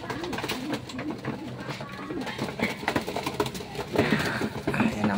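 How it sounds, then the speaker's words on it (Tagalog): Pigeons coo in low, throaty bursts close by, with some background noise and a voice talking partway through. "Ayan ang ibon natin."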